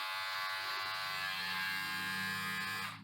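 A Philips Norelco Series 7000 vacuum beard trimmer runs with a steady, close electric buzz and whine that holds constant, then cuts off abruptly at the end, with no voices.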